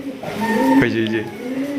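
Raj golla pigeons at a pigeon farm coo in soft, low, throaty calls nearby, with people talking in the background.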